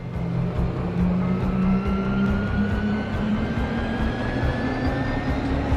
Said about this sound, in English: I just really wanted to show you how cool the harvester is when it takes off.